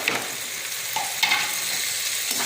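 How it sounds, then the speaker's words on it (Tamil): Tomatoes frying and being stirred in a pan for a Chettinad crab kurma, a soft continuous sizzle with a few brief scraping stirs, close but fairly quiet. "தக்காளி போட்டு நல்லா வதக்கலாம்"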